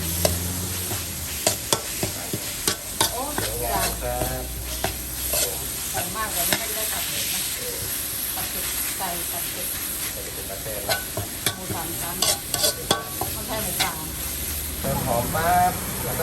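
Pounded chili curry paste is stir-fried in a pan, a continuous sizzle broken by repeated scraping and stirring strokes, with people talking over it.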